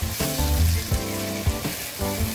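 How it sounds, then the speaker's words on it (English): Chopped fresh tomatoes go into a hot pan for a Ghanaian kontomire spinach stew, bringing a close, steady sizzle broken by a few soft thumps and stirring sounds. "And add my chopped tomatoes in."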